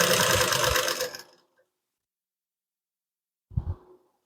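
A sewing machine stitching a blouse neck runs loudly for just over a second, stops, then gives a second brief burst after a short pause.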